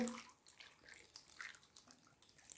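A glass of water splashes and trickles into a pan of apples in a short, soft pour with faint dripping, quiet and close by.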